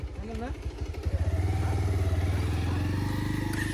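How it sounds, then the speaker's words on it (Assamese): A motorcycle engine putters with a steady rhythmic thumping, close and continuous, after some brief clatter at the start. "ওপৰত চৌ বাইক তুলিব লাগিব বোলে ভটৰ ভটৰ কৰি"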